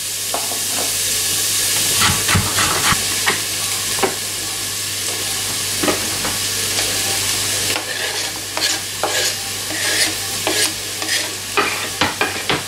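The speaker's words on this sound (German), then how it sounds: "Ich gebe jetzt ganz einfach mal die Zwiebeln und den Knoblauch schon mal rein." Onions and garlic sautéing in an Instant Pot for vegetable soup: loud bright sizzling and hissing with repeated scraping stirs of a utensil against the inner pot, close up, settling slightly quieter midway.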